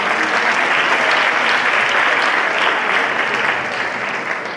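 Steady applause from an audience at a sociocultural event, a dense, continuous wash of clapping that holds loud for several seconds before easing slightly at the end.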